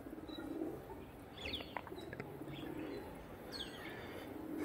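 Pigeons coo softly in a few low, rolling calls, with faint chirps from other birds over a steady background murmur.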